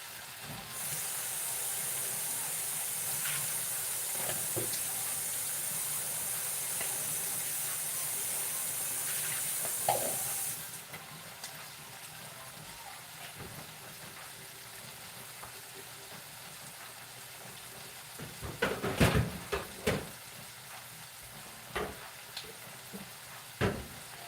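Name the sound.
shrimp and broccoli steaming and sizzling in pan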